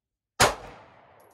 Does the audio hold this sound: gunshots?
yes